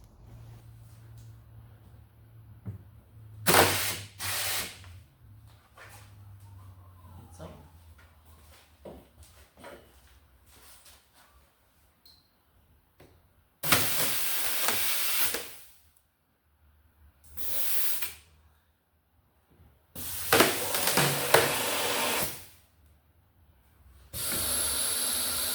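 Air hose with a rubber tip blasting compressed air to release a large fibreglass part from its mould, heard as several loud hissing bursts of a few seconds each, separated by quieter handling noises and pauses.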